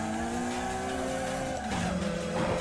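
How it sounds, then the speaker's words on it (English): Racing car engine droning steadily in a drifting video game, with rising pitch sweeps and tire noise as another car follows close behind, loud and continuous without talk. "I hear the car behind me."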